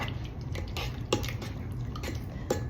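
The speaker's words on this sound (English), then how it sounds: "I gotta refeed that. Okay. Stir it up." A sourdough starter is stirred in a container, producing soft wet squelches and light clinks of utensil against the vessel in an irregular rhythm, close and moderately quiet, with no talk.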